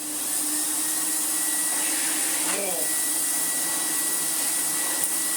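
An Electrolux Dolphin Silver Electronic 1000 Z2225 vacuum cleaner runs with no filter fitted, a steady loud whooshing drone of motor and rushing air that holds constant throughout, with a brief faint clatter near the middle.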